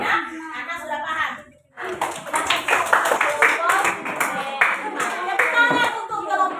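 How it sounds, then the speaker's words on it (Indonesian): A classroom group claps for group five, a burst of dense, fast applause from many hands that briefly drops out, then resumes loudly and continues steadily, with voices mixed in. "Tepuk tangan untuk kelompok 5"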